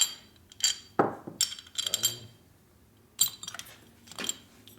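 Metal bolts, including a 5/16 bolt for a 1996 Harley FXST Evo softail's manifold, clink and rattle in a series of sharp, bright taps while being handled up close in a home garage.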